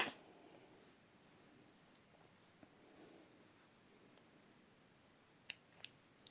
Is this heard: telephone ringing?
no